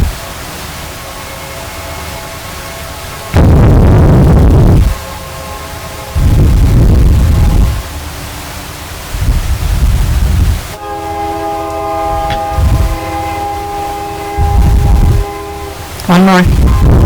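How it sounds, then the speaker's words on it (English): A train rolls past with its horn sounding in several long, loud blasts that break through the steady rumble and clatter of the railcars, while people talk intermittently at a public meeting. "Train. Train."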